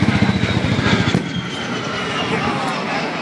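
A-10 Thunderbolt II jet aircraft of the 122nd ANG Fighter Wing roaring overhead on a demonstration mission, a loud pulsing engine rumble that eases into a steady broad jet whoosh, with someone talking over it.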